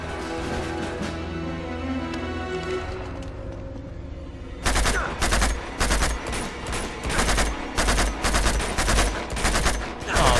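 Gunfire from the action game Uncharted 2: Among Thieves: after a stretch of music and ambience, a rapid run of loud shots and bursts keeps cracking out in irregular clusters until the end.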